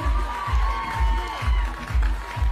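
Audience applause at a Queens Day stage event as Sanjeev sir is invited to join on stage, steady clapping and crowd noise over a rhythmic thumping music beat.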